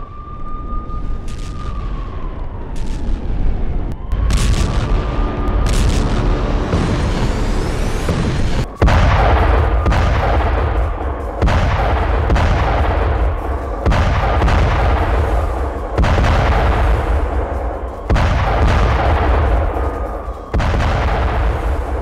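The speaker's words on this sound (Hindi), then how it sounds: "रूसी सेना ने टैंक से दागे ताबड़तोड़ गोले।" Russian tank firing shells during urban combat in the ruined city of Marinka: a series of heavy, booming blasts, about eight in irregular succession, each with a long rolling echo, very loud and with no speech.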